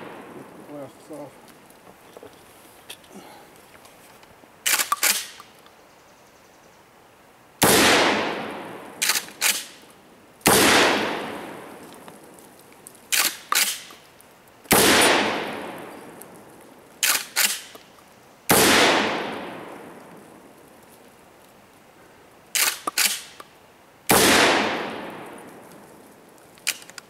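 A Kel Tec KSG 12 gauge shotgun fires 00 buckshot: five loud, close booms, each with a long fading echo, spaced several seconds apart, with sharp mechanical clacks of the pump action between shots.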